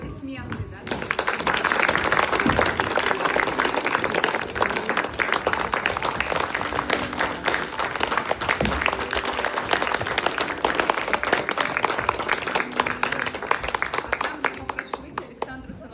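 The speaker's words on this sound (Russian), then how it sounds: "Под аплодисменты, да?" Audience applause in an inclusive theatre rises quickly and holds as steady, dense clapping for about fifteen seconds, with voices heard in the background.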